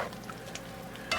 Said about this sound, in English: fresh mushrooms that I've actually chopped up in smaller pieces from the grocery store, and we're going to get that boiling